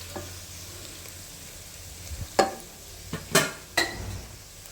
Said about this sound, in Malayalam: ചതച്ചത് ഇട്ടെടുത്ത് നന്നായി മൂക്കുന്ന വരെ ഇളക്കുക.